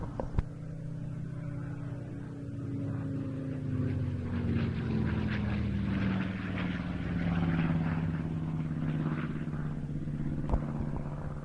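Curtiss P-36 Hawk (Model 75) fighter aircraft flying at a Duxford flying day, a steady droning piston-engine rumble with a slowly falling pitch as it passes, sustained and fairly distant.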